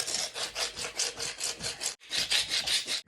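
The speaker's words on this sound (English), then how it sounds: "Now all I gotta do is grind it." Leg bone ground against a piece of sandstone to shape a knife, a close, rhythmic rasping scrape in quick back-and-forth strokes with a brief pause midway.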